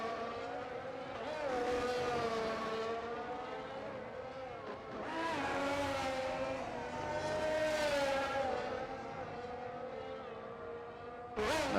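Formula 1 car in F1 22 lapping the Singapore track, its engine whining up and down through repeated gear shifts and revs at moderate level, ending with a sharp burst.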